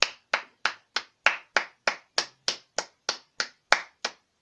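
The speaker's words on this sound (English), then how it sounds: "I just want to give a round of applause to Sasha and Bailey." A single pair of hands claps fourteen times in a slow, even rhythm, each clap crisp and close against silence.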